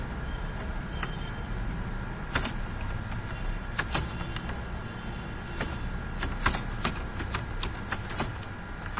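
Someone typing on a computer keyboard: irregular crisp key clicks, in short bursts and single taps over a low steady hum, close and fairly loud, without speech.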